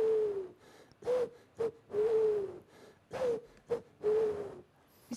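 A man imitates a pigeon's cooing with his mouth, producing a rhythmic series of soft, low hooting coos with breathy pauses between them, close and alone with no other talk.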